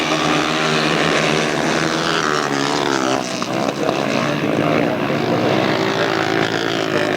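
Grasstrack racing motorcycles at the 1995 Inter Centre Grasstrack Championships roar with throttles wide open, a loud, continuous, dense engine drone throughout with a commentator talking over it.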